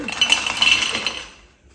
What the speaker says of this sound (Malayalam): ഗ്ലാസ്സിലേക്ക് അല്പം ഐസ് ക്യൂബ് ഇടുക